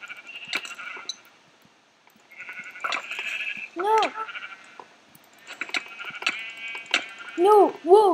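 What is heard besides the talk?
sheep bleating in a video game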